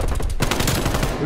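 Rapid hip-fired gunfire in a video game, a dense continuous string of close, loud shots throughout with a voice faintly underneath.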